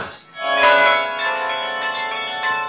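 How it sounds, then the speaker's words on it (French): The carillon in Hondschoote rings out, with several bells struck in quick succession, their clear, overlapping tones sustaining and slowly ringing on, loud and close. "Le carillon de Hondschot a de beaux jours devant lui."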